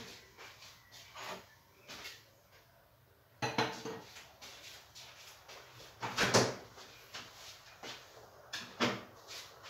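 Meat covered with a plate is taken from a home refrigerator for jardinière-style meatballs: scattered close kitchen clatter, with dishes clinking, a door or drawer opening and shutting, and a louder rattle of plates and handling near the end, no talking.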